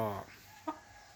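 Young roosters begin to crow, a brief, harmonic, rising call at the start followed by a short second squawk, heard close and alone against quiet background.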